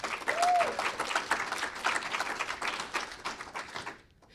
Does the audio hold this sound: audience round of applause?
yes